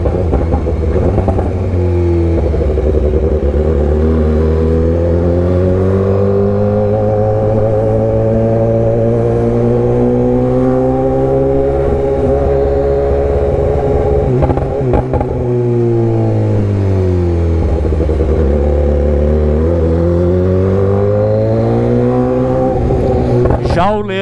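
BMW S1000R and Honda Hornet motorcycles riding in Balneário Camboriú, engines revving up and down in long sweeping surges, loud and close, with a voice talking over the engine noise at times.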